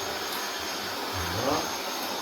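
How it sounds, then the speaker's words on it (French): A Meco Eleverde 4-in-1 handheld vacuum cleaner runs at its lowest power setting, giving a steady whirring hum that stays even across the short stretch. "On va aspirer pour voir."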